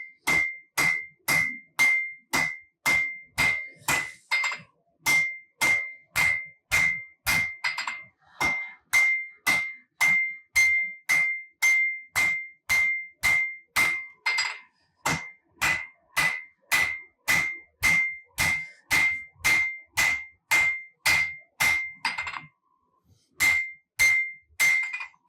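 A hammer strikes a Damascus steel chef's knife being forged, dozens of ringing metallic blows landing in a steady, even rhythm, loud and close, with brief pauses between bursts.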